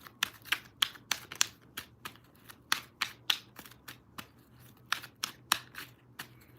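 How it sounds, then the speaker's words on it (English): A deck of tarot cards is shuffled close by, producing quiet, crisp, rapid slaps and riffles in an uneven rhythm with no talking. "One more shuffle."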